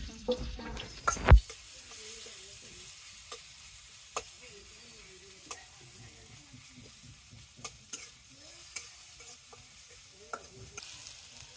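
Garlic dropped into foaming hot oil in a pan for a dried-fish curry, a quiet low sizzle punctuated by scattered sharp clicks and scrapes of stirring, with a louder burst near the start.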